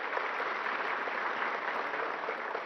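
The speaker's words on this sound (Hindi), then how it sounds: "जोरदार तालियां।" An outdoor audience at a government farmers' certificate ceremony breaks into dense, steady applause, a continuous wash of clapping from a large crowd with no talk over it.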